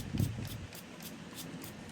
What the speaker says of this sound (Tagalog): Ito may pang spray tayo. Sprayan natin yung moss.